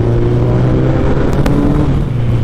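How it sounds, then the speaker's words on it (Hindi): A Suzuki Hayabusa inline-four motorcycle roars inside an underpass, a loud, steady, booming engine drone echoing close by with no talking. "मतलब दहाड़ती है ये बाइक ना"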